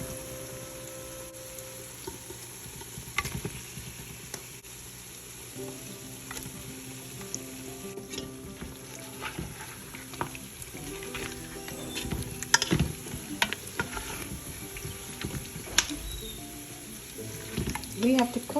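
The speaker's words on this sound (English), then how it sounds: "Now I'm going to add this meat into this spiced curry." Lamb meat sizzling and frying in a spiced tomato curry for bitter gourd and lamb, with steady crackle and a spoon scraping and stirring the pan at intervals, close and continuous.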